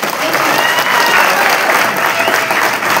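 An audience at a film press meet applauds, a dense steady burst of clapping from a crowd lasting a few seconds.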